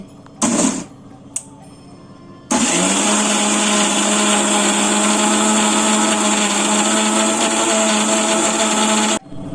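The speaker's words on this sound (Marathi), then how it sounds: "आतां मिक्सी मारया आमकां ते सॅलड ड्रेसिंगा खातीर." A mixie blender grinds avocado and yogurt into a salad dressing, a loud steady whirring motor running for about seven seconds after a few short clunks as the jar is set in place, then cutting off abruptly.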